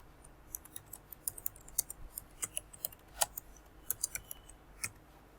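Keys on a computer keyboard being typed, a welcome message tapped out in a quick irregular run of crisp, close clicks, alone with no talk.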